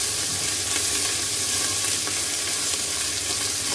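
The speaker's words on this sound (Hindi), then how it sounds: "और इसी में अब हम कीमा डाल देंगे" Keema, minced meat, fries with ginger and garlic in a pan, giving a constant close hiss and sizzle with light stirring scrapes and no talk over it.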